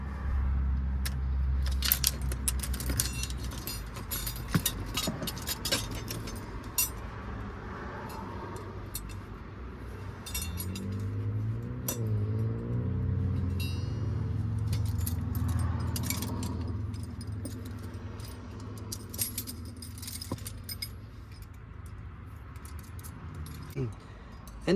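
Small metal fittings jingle and click as a fire extinguisher cage is fastened to a metal bracket in a Ford Ranger or Amarok with M5 nuts and bolts. Nearby rattles and taps come and go over a low rumble, with occasional talk.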